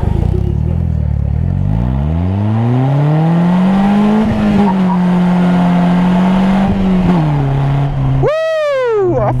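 A 2016 Polaris Slingshot revs and climbs through its engine tone, holds a steady drone, then screeches as the tires lose traction, with a sharp rising squeal near the end, loud and close.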